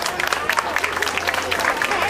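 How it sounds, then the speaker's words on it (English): An audience at an outdoor Eid mela claps in a burst of applause, dense patter of many hands with crowd murmur mixed in, steady and moderately loud throughout. "How about have a big round of applause for Amukta?"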